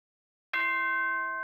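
A bright, sustained electronic chime rings out abruptly after half a second of silence, holding a clear multi-tone ring like a school announcement signal in the game Danganronpa Trigger Happy Havoc.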